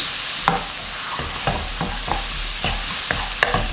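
Chicken curry with onions sizzling and frying on high heat in a pan, with a steady hiss broken by a series of spoon-stirring scrapes and knocks at irregular intervals, close and fairly loud.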